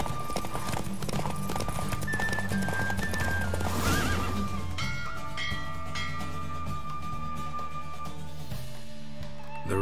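A horse galloping in a race in The Witcher 3, steady rhythmic hoofbeats with a neigh, set under game music throughout.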